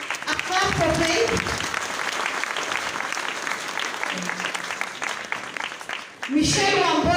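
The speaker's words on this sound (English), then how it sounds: "A clap for Faith." Graduation ceremony crowd clapping for a graduate, sustained loud applause with cheering mixed in and a fresh surge of clapping near the end.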